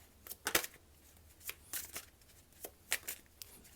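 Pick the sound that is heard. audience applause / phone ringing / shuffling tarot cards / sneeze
shuffling tarot cards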